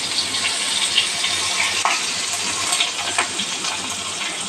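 Onion frying in hot oil with five-spice in a wok, a steady, close, hissing sizzle with faint scraping and crackling running throughout without speech.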